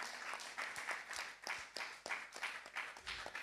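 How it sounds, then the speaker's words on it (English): An audience at a youth seminar applauds, a steady wash of many hands clapping with rhythmic peaks that continue throughout at moderate, roomy volume. "give him a big round of applause"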